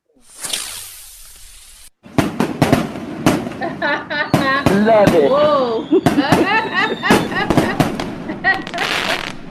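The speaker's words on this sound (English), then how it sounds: "Let's get your fireworks." Fireworks go off in a dense volley of sharp cracks and bangs with whistling, rising and falling shrieks between them, loud and continuous for several seconds while a person briefly exclaims over the noise.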